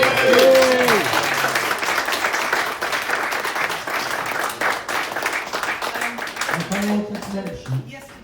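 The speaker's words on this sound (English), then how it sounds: "Let's have a round of applause for Jimmy" A theatre audience at a cast reunion Q&A gives a warm round of applause for a cast member, dense clapping swelling at once and running steadily for several seconds before tapering, with a voice speaking briefly over the start and again near the end.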